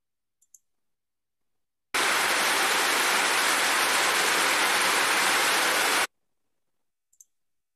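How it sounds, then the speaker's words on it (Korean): Heavy monsoon downpour, a dense steady roar of rain lasting about four seconds, loud and continuous, framed by near silence with a couple of faint clicks before and after. "저렇게 장대비가 오는 장마철을 되게 좋아하는데요"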